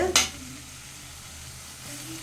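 Soft-cooked tomato rice is stirred in a pan, opening with one sharp scrape then settling into a faint, steady sizzle that swells slightly near the end.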